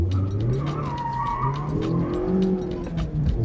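A Mazda MX-5's tires squeal and skid through a sustained power slide on a track as the engine revs up and down, loud and close, with no talk.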